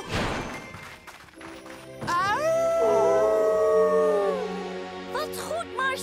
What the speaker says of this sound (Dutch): Oh nee, dat klinkt als nog een wolf.